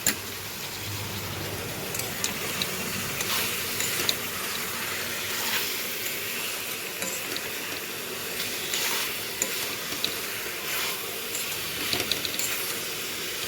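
Katla fish frying in a pan with potatoes and vegetable stems gives a continuous soft sizzle and hiss, with small crackles and pops scattered throughout at a moderate, close level.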